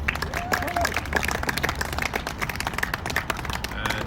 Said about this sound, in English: One more round of applause for Jacob,